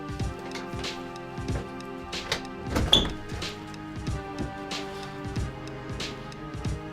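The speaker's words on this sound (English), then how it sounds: "trying to make the doorknob move" A doorknob is jiggled and worked from the other side until the door opens, producing repeated soft thunks and clicks in an uneven rhythm, with one louder knock midway.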